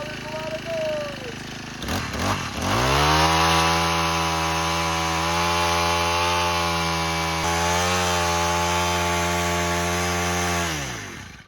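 A Honda FG110 cultivator engine starts with a pull of the rope, then runs loud and steady while its tines churn through soil, with a brief dip in pitch midway before it winds down.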